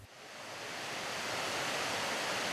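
Rimyongsu waterfall pours down in a steady, full rushing roar of falling water, building slightly over the first second and then holding constant and loud, with no voices present.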